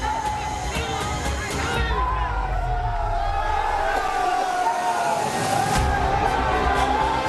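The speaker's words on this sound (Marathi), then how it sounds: "भाजपच्या विजयानंतर कोलकात्यात भाजप कार्यालयाबाहेर जल्लोष झाला" BJP party workers celebrate an election victory outside the party office in Kolkata, making a loud, continuous crowd din of cheers and excited chatter with occasional sharper shouts.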